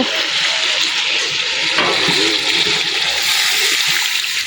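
Fish curry of mixed fish with tomato and onion cooks in a pan, giving a steady, loud sizzle and bubbling wash with faint stirring scrapes throughout.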